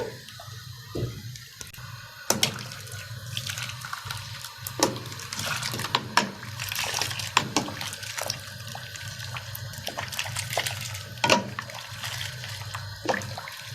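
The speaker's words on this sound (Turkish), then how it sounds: "tepesine sıcak su dökeceğim şimdi biraz" Hot water splashes and streams onto a limescaled, mouldy washing machine detergent drawer, a steady wet pouring and trickling wash with scattered clicks and drips, running continuously at moderate level.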